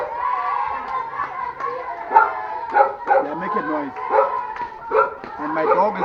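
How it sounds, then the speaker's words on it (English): A dog barks repeatedly in short yips and bow-wows, close by, while people talk over it and children make noise nearby. "my dog is barking here already"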